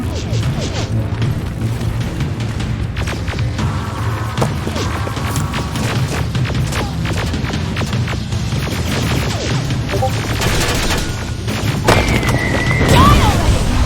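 Grenade blasts and gunfire in the video game Terminator Resistance, heavy booms and crashes layered over steady combat noise throughout, with voices shouting through the fighting.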